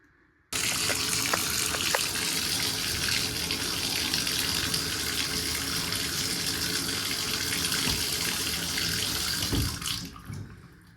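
Water runs from an upstairs bathroom tub faucet in a steady, continuous gushing stream that stays even at close range, then trails off right at the end.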